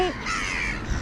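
Crows caw among seagulls competing for food on a wintry day, a single harsh call near the start over steady outdoor background noise.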